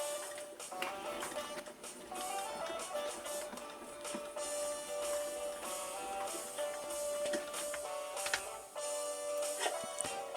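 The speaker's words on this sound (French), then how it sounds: "Maintenant, je n'ai plus qu'à découper avec ma machine." An electronic cutting machine cutting paper, a steady mechanical whir with a sustained motor tone and rapid ticking and tapping as the carriage moves, close and continuous.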